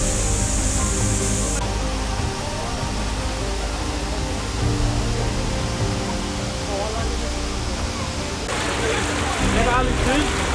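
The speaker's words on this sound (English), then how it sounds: "exploring this epic waterfall cascading through temperate rainforest near the Otway" A waterfall cascades through temperate rainforest near Otway Forest Park along Australia's Great Ocean Road, giving a constant broadband rush of falling water that fills the whole stretch, with indistinct voices mixed in at times.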